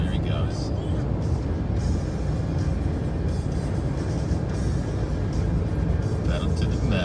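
A car speeds past on a road, a loud, continuous low roar of engine and tire noise with a person talking over it throughout.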